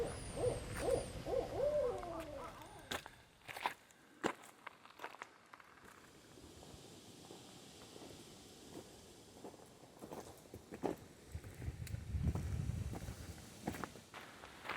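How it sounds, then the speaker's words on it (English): An owl hoots softly in the distance at night, with footsteps crunching nearby and faint rustling in between. "starting to hear some interesting animal noises. I'm wondering if it might be an owl."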